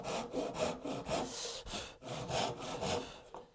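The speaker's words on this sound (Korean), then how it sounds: "네, 이렇게 톱질을 하면 되고요." Hand saw cutting wood at a 45-degree angle for a hidden dovetail joint, a run of rhythmic rasping strokes, about seven back-and-forth passes, close and clear with no talking.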